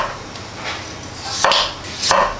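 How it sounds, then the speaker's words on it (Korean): Knife julienning potatoes on a cutting board, with a few sharp chopping strokes close by, spaced irregularly over a faint background hum. "감자를 채 썰어주세요"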